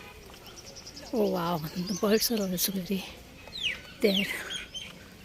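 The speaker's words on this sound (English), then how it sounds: "I'm able to listen some creeping sound of the birds" Birds call in Kanak Vrindavan garden in Jaipur: a few short, bright chirps and sweeping calls rise over a voice speaking nearby, with a louder burst near the end.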